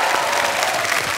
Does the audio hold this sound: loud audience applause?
yes